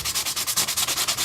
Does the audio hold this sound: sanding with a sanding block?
yes